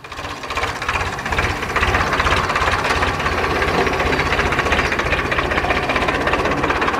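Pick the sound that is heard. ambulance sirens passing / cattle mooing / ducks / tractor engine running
tractor engine running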